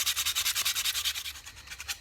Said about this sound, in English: So next step is just to basically clean it up, which is just a little bit of sanding.